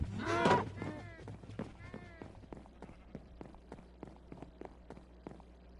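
Cows in Minecraft Bedrock Edition give one loud moo near the start, then a run of soft, evenly spaced footsteps or thuds that continues to the end.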